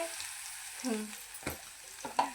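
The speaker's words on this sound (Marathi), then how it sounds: "आता मस्तपैकी बटाटे टाकायचे" Potatoes added to a pan for aloo pulao crackle and sizzle softly, with a few sharp clatters and stirring knocks from a utensil against the pan, fairly faint and close.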